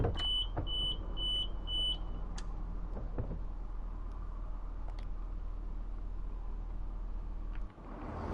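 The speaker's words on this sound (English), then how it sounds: "The door alarms are so loud" Repeating electronic door alarm tone on a British Rail Class 170 train in Train Sim World 5, Birmingham Cross City line: a short series of high, even beeps at the start over a steady cab rumble, then scattered clicks.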